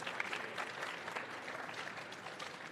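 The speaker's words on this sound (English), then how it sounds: "Let's give them a round of applause." Applause fills a room at a robot car race day event, steady dense clapping from a crowd heard at a distance and fairly faint, holding evenly throughout.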